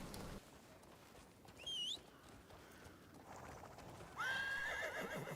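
Horse in the Cat Desert video game whinnies in a bright rising call, then neighs again louder and closer, over a steady background of clip-clopping hooves and soft ambient game noise.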